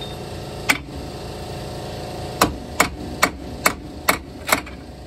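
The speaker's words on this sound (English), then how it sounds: "All we can do is try whacking her a couple times with the hammer." Sharp metallic hammer blows on a car part ring out, one early strike and then six more in a steady rhythm, close and loud over a low background hum.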